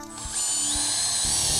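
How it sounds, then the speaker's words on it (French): A power drill bores small corner holes in a kitchen cabinet panel for a jigsaw blade, a loud close whine that rises as the motor spins up and holds steady, with faint knocks underneath. "4 petits trous dans les coins pour la lame de ma scie sauteuse"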